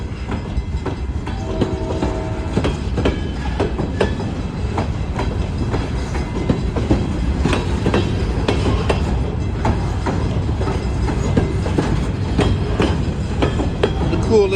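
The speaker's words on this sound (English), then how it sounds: "This long grain train here." A long Iowa Interstate grain freight train rolls past close by, its heavy rumble continuous with a steady clickety-clack of wheels over rail joints throughout.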